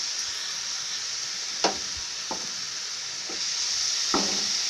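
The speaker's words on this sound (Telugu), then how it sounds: "తిరిగి అదే ప్యాన్లో ఈ సొరకాయ తురుముని వేసి ఫ్రై చేసుకోవాలి" Grated bottle gourd sizzles in a pan with a steady hiss, broken by a few sharp clinks or scrapes of stirring, moderately close and without speech.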